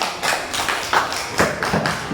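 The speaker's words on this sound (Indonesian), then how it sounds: "Oke, tepuk tangan." Children in a classroom clap their hands in a short, uneven burst of scattered claps and taps that sound near and fairly loud.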